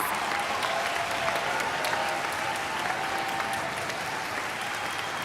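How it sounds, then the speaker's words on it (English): An audience at a Duke University String School orchestra concert gives steady, full applause for graduating seniors, a dense, even roar of clapping with a faint voice or tone running beneath it. "Let's give them one big round of applause."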